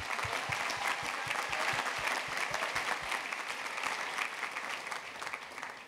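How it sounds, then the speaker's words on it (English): Sustained audience applause at a university orientation convocation, dense and steady from start to finish, with many hands clapping together in a large hall. "Could we give Lindsay one more round of applause?"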